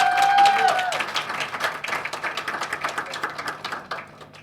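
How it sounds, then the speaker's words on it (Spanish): Applause from a seated audience at a university undergraduate literature colloquium panel, steady clapping that gradually thins out, with a brief voice at the start. "Un aplauso para Francisco"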